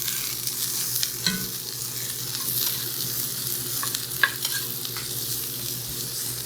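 Previously cooked jackfruit reheats in a pan over medium heat, a steady close sizzle with occasional stirring scrapes and light clicks, no talking.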